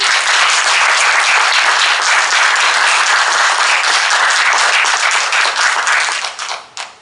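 An audience at a local council candidates' debate in Suncheon gives the three candidates a loud, sustained burst of dense clapping, which thins out and tapers away in the final second.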